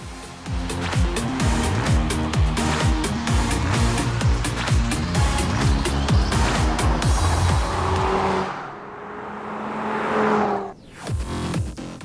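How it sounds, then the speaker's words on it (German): An Audi TT RS five-cylinder engine growls loudly through the oval twin tailpipes of the RS exhaust, climbing repeatedly in revs with quick gear changes, then easing off into a fading pass and a final rev. "typische Fünfzylinder-Sound dringt über die beiden ovalen Endrohre der RS-Abgasanlage ins Freie"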